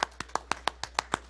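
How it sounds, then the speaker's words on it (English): Congregation hand clapping at a church service, nine sharp, evenly spaced claps in a steady beat, fairly close and distinct with quiet between them. "Can we give the Lord a hand clap?"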